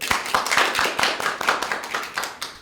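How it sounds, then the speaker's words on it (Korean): Scattered hand claps ring out at a forum on North Korean performing arts, welcoming a stage actress. The claps are few, distinct and rhythmic, fairly close, with no voices over them. "큰 박수로 환영해 주십시오."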